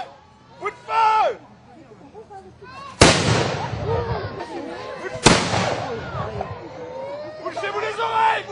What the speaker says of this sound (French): Coup de feu ! Coup de feu !